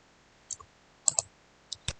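Computer mouse clicks while setting up an Excel drop-down list, a few sharp close clicks in short sparse groups, including a quick double click, over a quiet background.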